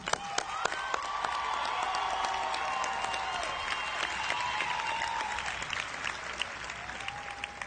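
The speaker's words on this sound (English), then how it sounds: "Please join me in applauding them." A large crowd at North Carolina Central University's commencement claps steadily for the honorees, with scattered cheers and faint tonal whistles over the sustained, moderately distant applause.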